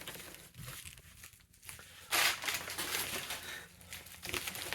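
Packaging around a Dell Latitude laptop crinkles and tears as it is unwrapped, with soft, close rustling that builds into a louder ripping burst and then more scattered crumpling.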